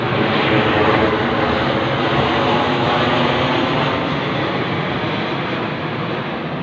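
An airplane passes overhead above a suburb called Leichhardt, its loud, continuous engine roar filling the whole stretch and easing off only slightly toward the end.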